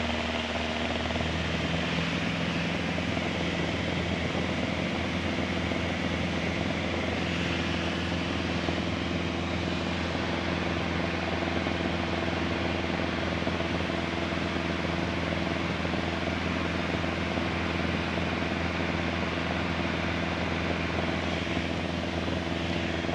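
A small plane's engine drones loudly and without a break in the cockpit as the aircraft climbs and turns, a dense, even roar with a steady low hum under it.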